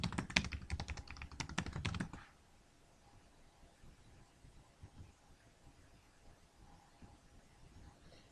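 Soft, rapid keyboard typing as an address is entered into a Microsoft Outlook signature setup, with louder clustered keystrokes for the first two seconds and only faint room hiss afterward.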